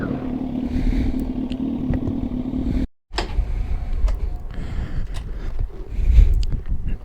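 A 2000 Kawasaki ZX6 motorcycle engine idles close by with a steady, smooth hum. The sound briefly cuts out, then the engine runs again with a rougher, rumbling idle.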